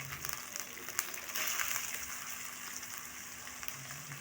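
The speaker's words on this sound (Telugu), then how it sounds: "అల్లం వెల్లుల్లి పేస్ట్ పచ్చివాసన వెళ్ళే వరకు ఫ్రై చేసుకోవాలి" Ginger garlic paste and tomatoes frying in a pan make a steady, close, even sizzle with a soft crackle throughout, and nothing else stands out.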